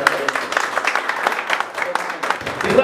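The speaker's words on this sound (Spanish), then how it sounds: "el aplauso que se escuche" Brief burst of crowd applause at a youth mariachi performance, a dense patter of many hands clapping steadily throughout.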